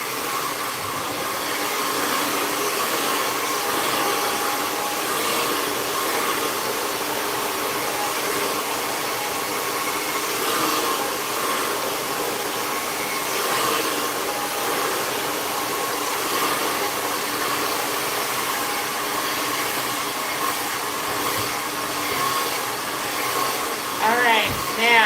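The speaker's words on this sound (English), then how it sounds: "you're straightening your hair at the same time that you're blow drying it" A hair dryer blow-drying a client's hair while it is being straightened in a salon, giving a steady, continuous close-up roar that barely changes for the whole stretch.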